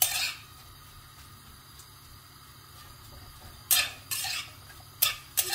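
Onions fry over a medium flame in a pan for an onion chutney, under a low steady sizzle, with a metal spoon scraping and knocking against the pan in several sharp bursts near the end.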